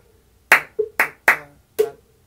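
Children clap a short rhythm along with a teacher in an online rhythm class, five crisp claps in an uneven pattern, close and loud with silence between.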